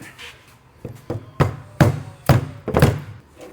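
Metal hammer blows pound on a Jeep Gladiator anti-rock sway bar part, about eight uneven thumping strikes that grow heavier, close up in a garage.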